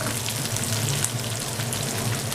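Beef tripe sizzles in a frying pan with a steady, close crackling hiss and dense popping, loud and continuous with no talk.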